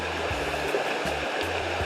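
A river from the hills of Portland runs and gurgles in a steady, soft rush of water, continuous and moderately close, with no voices.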